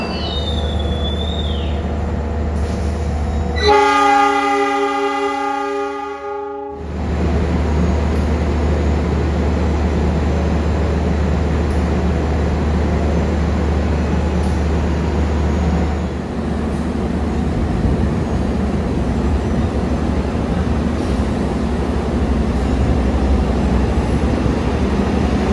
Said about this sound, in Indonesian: masih harus menunggu keberangkatan Argo Merbabu yang ada di jalur 3 dulu di sebelah sana